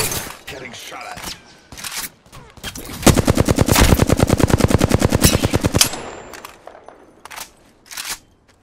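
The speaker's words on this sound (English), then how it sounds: "Getting shot at." Rapid automatic gunfire from the video game Apex Legends, a dense sustained burst of about three seconds amid scattered shorter shots and game sounds, loud and close.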